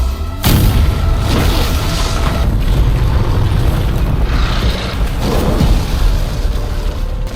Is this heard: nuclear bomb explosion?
yes